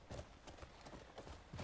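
Horse hooves clip-clop at a steady trot in the medieval open-world game Crimson Desert, a rapid soft series of thuds heard faintly over low background ambience.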